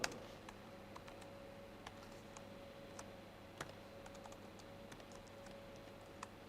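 Quiet, steady keyboard typing as code is entered on a computer, with irregular soft key clicks over a low background hum and no talking.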